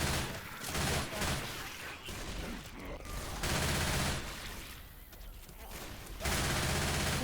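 Dense bursts of rapid gunfire from the video game Left 4 Dead 2 come in waves over steady game noise, with players talking throughout.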